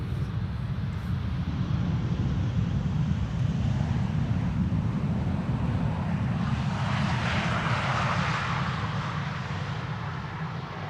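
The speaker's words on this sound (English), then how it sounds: "This is KLM Flight 1930, arriving from Geneva." A KLM airliner arriving from Geneva lands on runway 18R Polderbaan, its engines a loud, steady broadband roar that holds throughout, with a brighter rushing swell as it passes close, amid wind noise.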